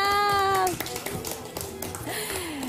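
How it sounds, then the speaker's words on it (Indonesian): Studio audience claps for Abinaya Tour and Travel on a Ramadan program, light scattered taps after a sung tone fades, moderately close, with a voice rising near the end. "Tepuk tangan dong untuk Abinaya."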